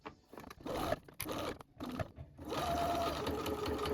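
A sewing machine runs in rapid bursts while stitching a laptop bag near the zipper, quiet stops breaking up the whirring passes before one longer continuous run of stitching.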